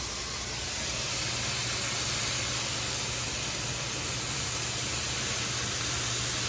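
Hamburger meat sautéing on high heat in a pan gives off a loud, steady, unbroken sizzle that holds an even hiss throughout, with no voices.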